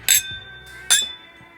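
Two whiskey glasses filled with Heaven Hill straight rye clink together in a toast, two bright ringing chinks with a short sustained tone fading between and after them, loud and close.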